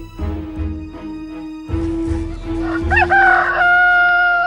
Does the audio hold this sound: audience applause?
no